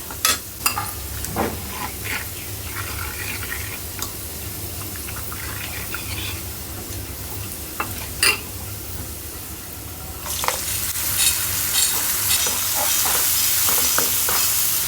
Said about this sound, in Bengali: তেলের উপরে পেঁয়াজটা লাল করে নিছি, পেঁয়াজ, কাঁচামরিচ।